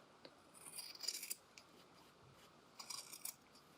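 Scissors trim into coat facing fabric below the stitch line, two short bursts of quiet close snipping separated by a pause.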